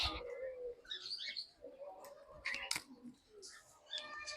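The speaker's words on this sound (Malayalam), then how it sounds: "ഇത് വെറൈറ്റി കിളികൾ" Several small birds chirp and twitter in short bright bursts, fairly close, with soft rustling and shuffling between the calls.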